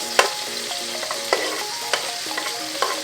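Pork pieces for slow cooker carnitas frying in a pan, a close, steady sizzle with sharp crackles and a few clinks as pieces are flipped, no talking.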